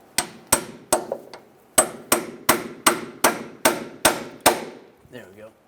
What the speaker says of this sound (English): As it spreads, you should be able to hammer it up.